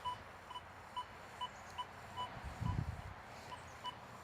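Faint, regular electronic beeps from a Deus 2 metal detector repeat about every half second, with a brief low rustle partway through.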